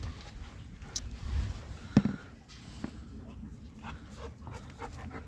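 A dog in a backyard barks in short bursts, with one sharper bark standing out amid panting and whimpering while people talk nearby.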